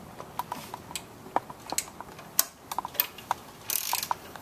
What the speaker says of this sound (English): I'm going to start by loosening the bolts on either side of the alternator.